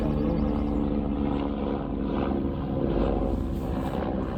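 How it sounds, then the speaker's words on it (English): Steady low rotor drone of a helicopter passing overhead, a continuous rumbling wash at moderate distance with no other sounds. "As you can hear, there's an helicopter coming over."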